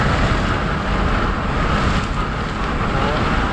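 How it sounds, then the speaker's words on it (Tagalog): Strong wind buffets the microphone outdoors in Mexico, Pampanga, a steady broadband roar with low rumble that holds for the whole stretch without letting up. "Ang lakas ng hangin."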